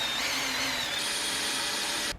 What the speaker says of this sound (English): I've got it clamped so I can drill through this